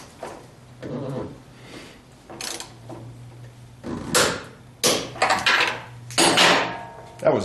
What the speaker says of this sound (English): I'll be able to get my torque wrench on it and have a nice swing to tighten it.